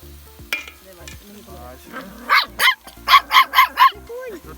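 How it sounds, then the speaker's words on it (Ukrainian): A small dog barks outdoors during an open-air grill cookout, giving about six sharp, evenly spaced barks at moderate distance over sizzling food and people talking nearby. "і вон той маленький такий гавкає там"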